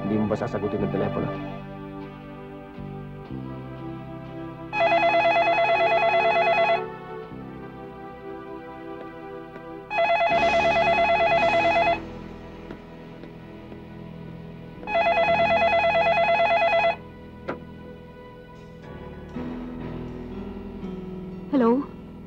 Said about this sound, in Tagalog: Hindi mo ba sasagutin ng telepono?